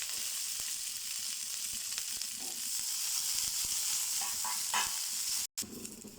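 Green chillies fry in a little oil in a pan, giving a steady close sizzle with light stirring clicks, briefly cut off near the end.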